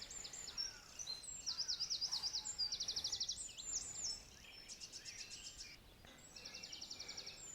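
Wren singing nearby at dawn, loud rapid trilling bursts of high notes in several long phrases separated by short gaps, with other birds chirping faintly around.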